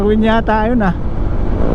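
Loud motorcycle engine on a road ride during an endurance challenge, a steady low rumble running under a voice and then continuing alone.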